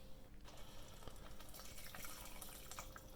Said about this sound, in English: I've just put my half cup of water in.